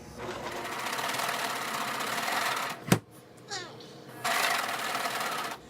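A serger sewing machine whirs steadily while stitching and trimming fabric for a skirt hem, running in long bursts that stop for a sharp click and a pause before starting again, with someone talking nearby.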